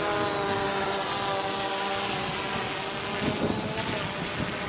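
Steady whirring of a small camera helicopter in flight, a continuous buzzing drone with faint whining tones, fairly close and constant without pause.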